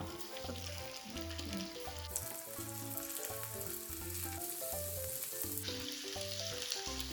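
Mackerel fries in hot oil just under a centimetre deep in a pan, a steady broadband sizzle that swells louder in the middle and then eases, with rhythmic background music playing throughout.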